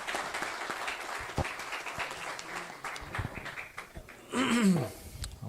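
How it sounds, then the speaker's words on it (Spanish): An audience at a political forum in Honduras applauds a vice foreign minister, fairly faint and thin clapping from a seated crowd, with a brief louder burst of voices near the end. "Un aplauso muy fuerte para el vicecanciller"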